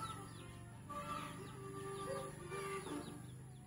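Young chickens cluck and chirp softly nearby, a scattering of short, calm calls and a few brief peeps over a low background hum, with no one talking.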